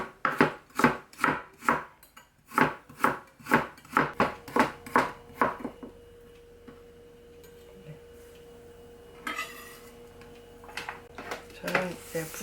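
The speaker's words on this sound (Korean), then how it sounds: "야채 썰어주세요." Knife chopping vegetables such as carrot on a cutting board, a quick run of sharp, evenly spaced close chops that stop partway, leaving a low hum and a few faint kitchen knocks.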